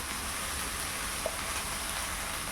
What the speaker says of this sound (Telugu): దీంట్లోని పచ్చివాసన అంతా పోయే వరకు అయితే ఇలా వేయించుకుందాం